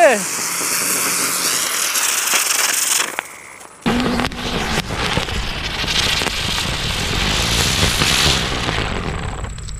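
Village firecrackers tested during Diwali go off outdoors, with a hissing fizz followed by a sharp blast and a long stretch of loud, dense crackling and popping.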